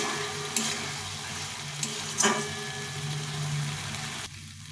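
Potatoes fry with spice paste in a pan, a low continuous sizzle broken by a couple of sharp scraping stirs, close and moderately quiet with no talking.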